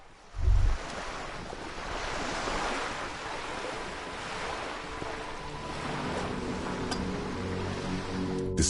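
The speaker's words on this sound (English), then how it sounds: "The wind flaps the sail above her." Sea wind rushes steadily past a sail on the coast in Disco Elysium, a broad airy roar like surf with a short low thump near the start, alone and without voices.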